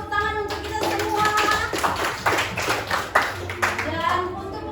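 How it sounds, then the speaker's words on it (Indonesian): A physics classroom full of students applauds together, a dense patter of many hands clapping at close range with voices mixed into the noise. "tepuk tangan untuk kita semua."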